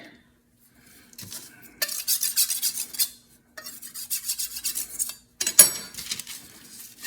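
A knife slices through sticky sweet potato scone dough in a few separate strokes, each cut a soft scraping, rasping burst against the board with short pauses between.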